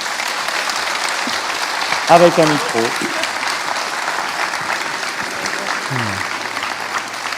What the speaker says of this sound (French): On va vous applaudir déjà